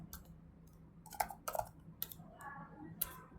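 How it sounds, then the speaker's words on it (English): Faint, scattered clicks from a computer keyboard come through a low steady background hum, a handful of soft key taps spread irregularly over a few seconds. "So I'll just type them here."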